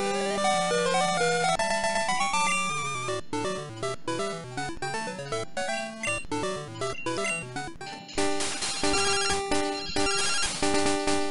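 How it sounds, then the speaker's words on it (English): A video game ringtone from Pokemon Silver, with chiptune music playing continuously, its busy melodic notes steady and loud throughout, then turning brighter and denser near the end. "Oh, got a phone call."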